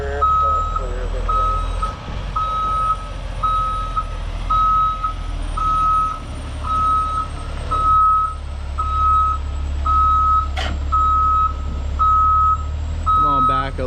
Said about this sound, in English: Just bringing Grant back in here to get this one dumped